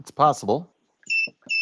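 Electronic beeps sound during a curling broadcast, two sharp high tones in quick succession after a brief spoken comment.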